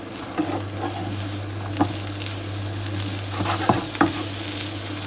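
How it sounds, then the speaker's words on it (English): Parsley sizzles in a pan with chorizo and chickpeas for a soup, a steady broad frying hiss with a constant low hum beneath and a few sharp clicks and scrapes of stirring. "that parsley's hit the pan"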